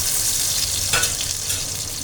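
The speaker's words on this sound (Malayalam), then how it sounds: "ഒരു ശകലം കടുക് ഇട്ട് പൊട്ടി." Mustard seeds and shallots in hot oil make a continuous sizzle, broken by a single sharp burst of sputtering midway.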